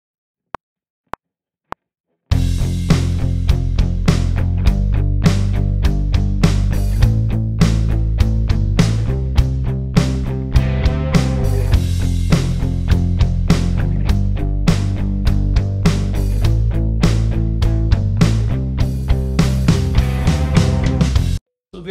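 Electric guitar part double-tracked, played once on the left and again on the right for a wider, fuller sound, running continuously and loud after a few short isolated hits at the start, with no talking.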